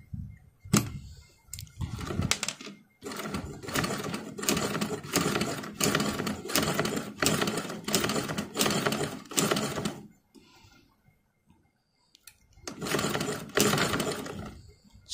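A new sewing machine stitches fabric in rapid rhythmic bursts of mechanical clatter. Runs of stitching are broken by brief pauses, and a final short burst follows a longer silence, close and fairly loud.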